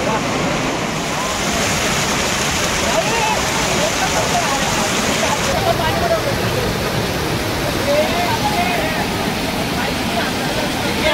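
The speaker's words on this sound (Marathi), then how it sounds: "पाण्याचा प्रवाह जास्त आहे" Shitkada waterfall near Nashik roars with a strong flow of water, a loud, continuous rushing wash that fills the whole scene without a break.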